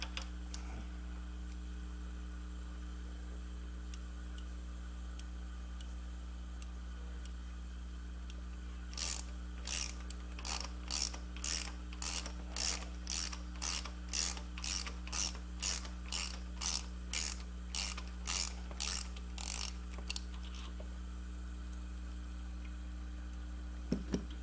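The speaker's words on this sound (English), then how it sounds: "I'm now going to back off that nut" A ratchet wrench backs a nut off on an LS engine during a valve spring upgrade, giving about twenty quick, even clicks in a steady run over a low mains hum, close and fairly quiet.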